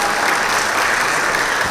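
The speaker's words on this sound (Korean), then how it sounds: "감사의 박수 부탁드리겠습니다." Loud, dense applause fills a Korean government ceremony opening a national data support center, steady clapping from a large audience throughout with no voices on top.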